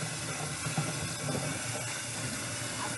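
Tap water runs steadily into a sink, rinsing chicken drumsticks, splashing and hissing softly at a moderate distance, with no voices.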